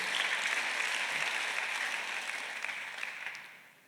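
A church congregation claps together during a Sunday worship service, a dense steady wash of applause that holds for a few seconds and then tapers off toward the end.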